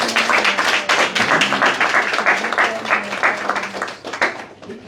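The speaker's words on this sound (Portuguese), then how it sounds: "Uma forte salva de palmas para o Dr. Denis." Audience applause at a Mozambican political gathering for the ANAMOLA movement, steady clapping from a crowd with a faint tonal hum underneath, tapering off near the end.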